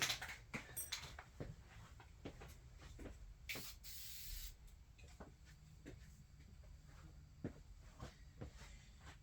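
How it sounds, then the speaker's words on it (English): An aerosol can sprays paint onto a part of a 1/350 scale model of the Refit Enterprise in several short hissing bursts, close and fairly quiet, separated by small clicks and handling noises. "Let me test spray this on something."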